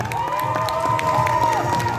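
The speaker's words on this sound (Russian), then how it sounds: "Аплодисменты!" An audience at a children's short film festival red carpet cheers and applauds, with sustained crowd noise, whoops and excited children's shouts over clapping, fairly loud throughout.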